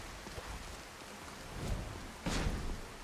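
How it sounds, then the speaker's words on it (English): Rain and a thunderstorm in the video game Skyrim: steady rainfall with two low rumbling thunder cracks, the second louder and closer, with no talk. "Sorry for the thunder jump scare, Ben."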